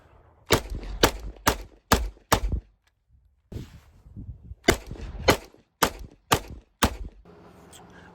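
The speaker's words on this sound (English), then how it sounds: "let's go ahead and look at some shooting we did at the range" A Glock fitted in a Recover Tactical P IX+ chassis fires at an outdoor range, sharp loud shots in two quick strings of five, each crack ringing briefly before the next.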